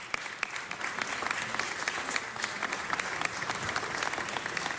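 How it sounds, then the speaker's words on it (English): An audience at a city council meeting applauds honored guests with steady, dense clapping that fills the room evenly and continuously, with no voices rising above it. "Give them a big round of applause."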